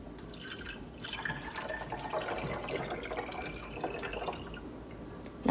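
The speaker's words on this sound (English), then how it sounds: "So just fill up your coffee cup, pour it in here." Water from a cup is poured into the reservoir of a single-serve coffee maker. It makes a steady, close splashing trickle that runs throughout, with no voices.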